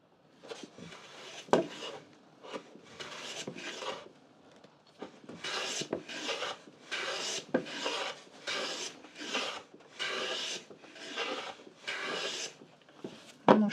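A hand plane cuts shavings from a board in a string of short rasping strokes, about ten separate swipes with brief pauses between them, close and moderately loud with occasional clunks as the plane is set down or repositioned.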